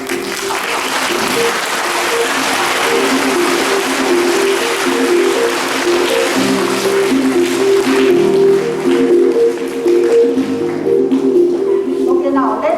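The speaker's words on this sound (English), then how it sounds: "huge round of applause for all the 3 teams." An audience at a school Founder's Day quiz claps loudly and continuously for several seconds, a steady wash of applause with a sustained tonal hum running underneath.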